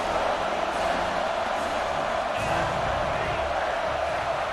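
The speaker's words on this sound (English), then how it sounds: "And here comes the noise. This crowd is trying to inspire this defense to make a big red zone stop." Steady roar of a virtual stadium crowd in the College Football 26 video game during an Alabama versus Georgia matchup, building for a red zone defensive stand, a dense continuous wash of noise with no break.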